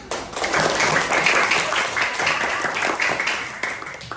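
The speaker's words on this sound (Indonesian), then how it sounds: "Sekarang beri apresiasi buat diri kalian dengan tepuk tangan" A classroom of students applauds themselves after a lesson, a dense, steady wash of many hands clapping close by for about four seconds.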